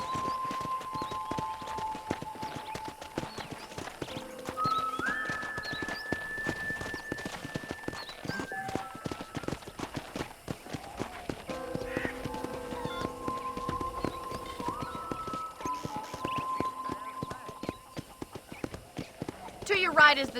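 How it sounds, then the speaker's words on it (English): Horse hooves clip-clop steadily throughout as a rider tours a ranch in Red Dead Redemption on Xbox Series S, the rhythmic hoofbeats running under game dialogue and music for the whole stretch. "let's see if you can still ride a horse."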